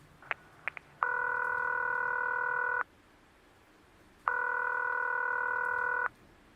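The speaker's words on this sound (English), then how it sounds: "Ringing the police department." Two long, loud ringback tones from a telephone ringing the police department in a radio play, each lasting nearly two seconds with a silent gap between them, preceded by a few faint dialing clicks.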